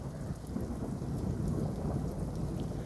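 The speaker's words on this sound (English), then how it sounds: "It's actually raining." Steady rain pours down in a dense, even hiss, with a low rumble underneath and no voices.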